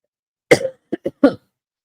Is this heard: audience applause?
no